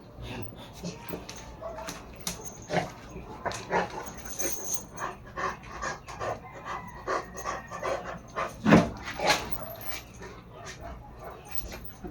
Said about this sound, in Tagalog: Aso na to.